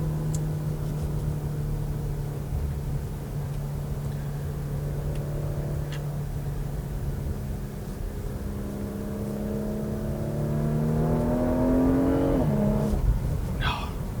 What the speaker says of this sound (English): I'm gonna floor it here again. Second gear.